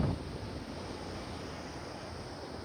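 Wind blows steadily outdoors, a soft, low rushing that holds a fairly even level after a slightly stronger gust at the start, with no voices.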